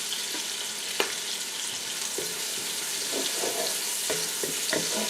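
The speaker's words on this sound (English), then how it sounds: "Okay, so I'm going to add the garlic." Garlic frying in a pan for a leftover casserole, a steady, close hiss of sizzling oil throughout with a few light scraping clicks of stirring.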